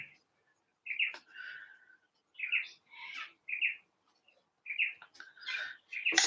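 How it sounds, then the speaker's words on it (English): A cockatoo outdoors gives a series of short squawks and chirps, spaced apart with quiet gaps between them and moderately loud at some distance. "That's a self-requested cockatoo out there, if you can hear him."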